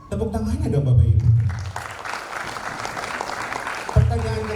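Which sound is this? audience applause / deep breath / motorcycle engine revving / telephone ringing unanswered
audience applause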